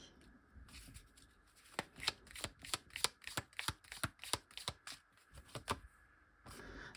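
Tarot cards are shuffled in a quick run of crisp riffles and flicks, then a card or two is drawn and set down, close and fairly quiet, with no speech.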